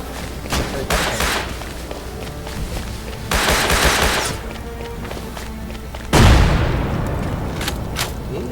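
Rust video game combat with a grenade and gunfire: rapid bursts of shots and thuds, a louder blast around the middle, then a heavy boom near the end, dense and continuous over background game noise.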